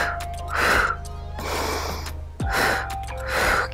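Forceful exhalations during a core exercise with leg switches, several sharp breath bursts in a pulsing rhythm, close and fairly loud, with faint background music.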